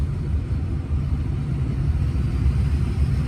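A 2004 Ford F350 pickup's 6.0-liter Power Stroke turbo diesel idles close by, a deep, steady rumble, low and even throughout with no voices.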